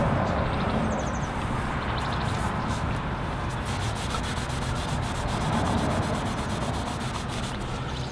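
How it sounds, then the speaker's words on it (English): A cloth is wiped firmly over a surface on a Ford F150 to press something down so it sticks, producing a loud, steady, continuous rubbing right up close with no speech. "Give it a good wipe, make sure it sticks on it right."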